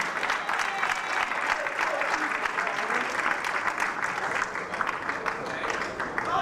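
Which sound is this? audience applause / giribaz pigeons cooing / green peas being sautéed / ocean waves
audience applause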